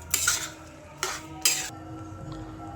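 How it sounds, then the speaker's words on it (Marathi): A spoon scrapes and knocks against a pan while grated carrot halwa with sugar is stirred, three distinct clattering strokes over a soft background sizzle, close and without speech. "याच्यात साखर टाकूया आणि चांगलं परतून घेऊया"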